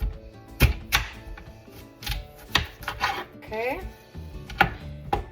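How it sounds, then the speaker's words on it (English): A knife chops potatoes on a cutting board in a steady, rhythmic series of sharp, close knocks, with a brief spoken word mixed in among the cuts. "when you cut a potato, cut it in half and then put the flat ends to the bottom, to the cutting board"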